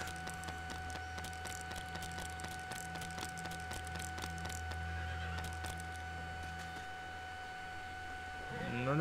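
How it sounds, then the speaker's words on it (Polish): Horse neighing in LEGO Worlds, a game sound set among steady tonal music and busy clicking effects, with a rising burst near the end. "Aż się koń śmieje, no."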